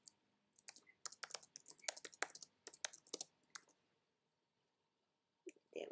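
Bursts of quick plastic key clicks from a computer keyboard during a casual stream, typed in short irregular runs with pauses, fairly close, then a brief break before a couple of final taps.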